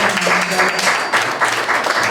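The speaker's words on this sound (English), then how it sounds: "Please join me in giving him a" An audience at a National House of Chiefs gathering gives a round of applause for a regional chief, a steady burst of many hands clapping close and fairly loud, with talk mixed in.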